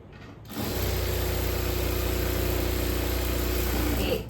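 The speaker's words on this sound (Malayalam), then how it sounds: "ഇങ്ങനെ കൂട്ടി തയ്ക്കാൻ പോവാണ്" Sewing machine stitching the front pieces of an A-line kurti, starting after a brief pause and then running as a steady, even whirring hum at close range, with no talking.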